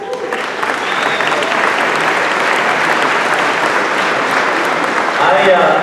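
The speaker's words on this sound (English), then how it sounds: "I'm glad you did the applause" Sustained audience applause at a small business awards ceremony, steady and dense clapping from a large crowd throughout, with a voice beginning to speak over it at the very end.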